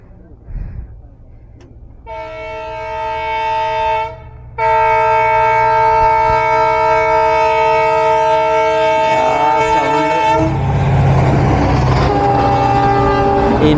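A train passes close by a level crossing gate, sounding a loud, sustained horn after a rising rumble and ending in heavy clattering wheels, with brief voices near the start.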